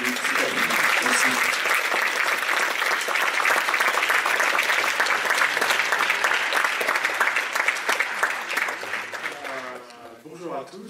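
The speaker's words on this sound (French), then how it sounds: "Donc je vous demande d'applaudir Christophe Deroux qui nous fait l'honneur d'être avec nous" Sustained applause from a festival cinema audience greeting a guest before a film introduction, dense and steady for about ten seconds, easing off near the end as a voice begins.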